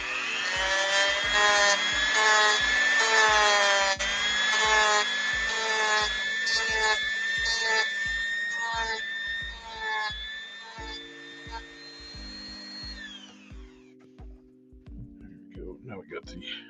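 A Dremel rotary tool with a coarse bit grinds away material on an action figure being customized, a steady high whine with harmonics that shifts in pitch as pressure changes, running loud for most of the stretch before tapering off near the end.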